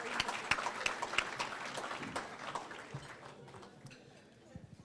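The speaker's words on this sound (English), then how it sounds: "How about giving them a round of applause and thanking them?" Applause from the audience at a Black History scholarship gala, honoring the emcees. Dense clapping fills the room at moderate volume, then gradually thins toward the end, with some talk mixed in.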